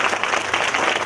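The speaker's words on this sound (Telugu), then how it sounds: "ఇంకా గట్టిగా చప్పట్లు." A crowd at a Ganesh festival event in Sangareddy claps loudly and continuously for a short burst of dense applause.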